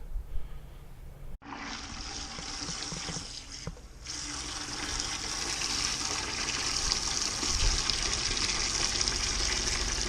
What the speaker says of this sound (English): I'm going to fill them with water